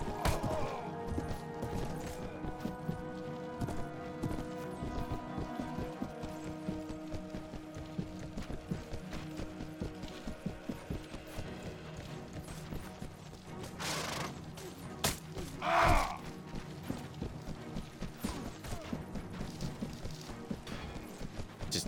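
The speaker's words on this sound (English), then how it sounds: "I got this slow goddamn donkey. I need to get a better horse." Donkey hoofbeats in the Mount & Blade Warband video game, steady clip-clop ridden over a dense, busy mix of game sounds and crashes, with a brief louder impact partway through.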